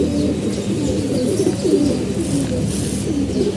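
A flock of pigeons coos continuously up close, soft rolling calls overlapping, with a faint chirp now and then.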